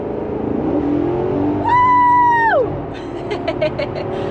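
Maserati sports car, rear-wheel drive, revving hard as it accelerates, engine note climbing sharply then dropping off as it shifts, loud and close over steady cabin road noise.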